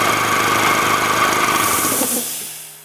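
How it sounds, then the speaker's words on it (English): An air compressor runs with a steady broadband hiss and motor drone, loud and close, then winds down and fades away near the end. "We had our neighbor come over and hook up our air compressor"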